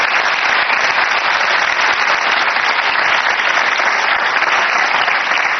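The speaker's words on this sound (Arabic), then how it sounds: "أعطونا تصفيقة حرة." Dense, steady studio audience applause fills the whole stretch at high volume, continuous and even with no pauses, on an Arabic-language television talk show.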